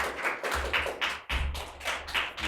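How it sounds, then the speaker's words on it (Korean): A church congregation claps to welcome a pastor to the pulpit, with a rhythmic, sparse pattern of hand claps and soft thumps close by, pulsing in regular beats. "우리 목사님 올라오실 때 할렐루야로 환영의 박수,"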